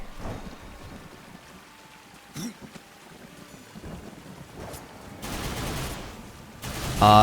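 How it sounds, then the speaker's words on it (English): In Darksiders 2, the zombie rush cue builds from a low rumbling game soundscape with scattered thuds into a loud, harsh noisy surge near the end, with a sharp tonal stinger at the close. "The zombie rush is gonna happen. That's the sound cue you want to listen out for."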